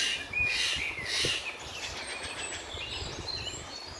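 Birds chirp and call in Grangewood Park in early September, a few bright tweets near the start over a steady outdoor ambient hiss, then fainter calls farther off.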